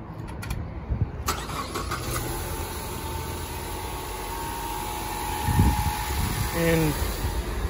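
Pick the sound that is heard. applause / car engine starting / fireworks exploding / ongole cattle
car engine starting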